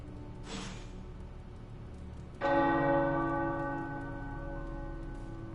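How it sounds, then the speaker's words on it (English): In the video game Midnight Suns, a single tower bell strikes, then a louder deep church tower bell tolls and rings out with a long, shimmering decay. "The tower bells are ringing."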